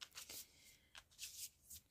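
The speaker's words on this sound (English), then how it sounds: "Just a wee shuffle, because it's getting harder to shuffle this few cards" A small, thin deck of playing cards being shuffled by hand, a few quick riffling bursts that are soft and close, with short pauses between them and nobody speaking.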